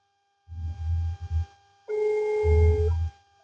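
A telephone call rings out on the line as two ringback tone bursts, steady and fairly loud, separated by a short pause, with no one speaking.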